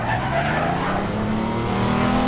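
Car tires skid continuously in the Devil May Cry 5 video game, a loud, sustained screech over a steady engine drone for a couple of seconds, with no talking.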